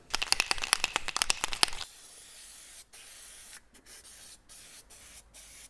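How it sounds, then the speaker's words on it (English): Aerosol lubricant sprayed onto the metal sliding parts of a 1979 Ski-Doo 444 L/C Everest snowmobile: a quick run of close, loud, sputtering hissy bursts for about two seconds, then a quiet room. "I try to put a little bit of lubricant on the metal parts that'll be sliding"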